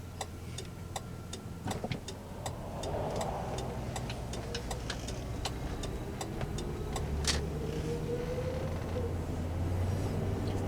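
A 2007 Mercury Grand Marquis with a 4R75E automatic transmission, heard from inside while driving as it downshifts to first, giving a steady low drone with a whining planetary-gear tone under repeated ticking clicks.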